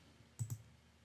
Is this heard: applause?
no